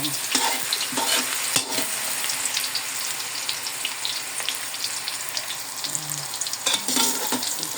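Garlic and onion sizzle loudly in hot oil for a Filipino pancit, a dense steady frying hiss with stirring clatters, no voices.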